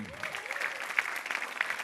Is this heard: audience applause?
yes